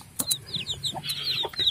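Bangkok and village cross hens cluck in short, repeated calls close by, with light rustling and no talk.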